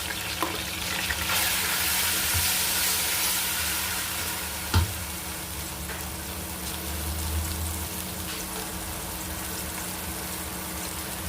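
Mutton sizzles and fries steadily in a pan as ginger paste is added and stirred in, a continuous close hiss with scraping stir strokes and a brief knock midway.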